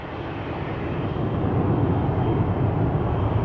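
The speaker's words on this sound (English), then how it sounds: "This is KLM flight 1983 to Belgrade. It's an E2 Embraer 195, the PHNXG." A KLM Embraer 195-E2 jet departing Schiphol gives a low, steady engine rumble that builds gently over a few seconds, with no voices.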